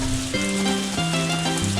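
Rain in the farming video game Harvest Moon A Wonderful Life, a steady hiss of falling rain under a simple tonal game melody with stepped notes, continuous and fairly loud.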